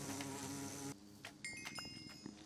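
Insect-like buzzing from bees clustered around the Bee Queen in the Minecraft modpack All of Fabric 6: a steady drone for about a second, then scattered fainter buzzes and chirps.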